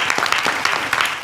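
A small group applauds in a short burst, with brisk, fairly close clapping that holds steady throughout the moment.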